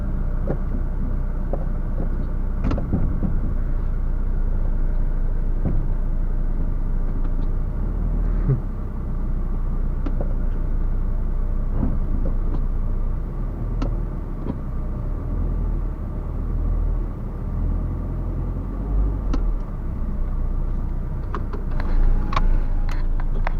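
A demolition derby car's engine idles with a steady low rumble while the car is maneuvered and shifted into reverse, with faint clanks and knocks over the continuous drone.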